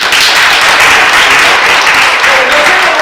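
An audience at a talk bursts into loud, sustained applause, a dense continuous roar of many clapping hands filling the whole stretch at full volume.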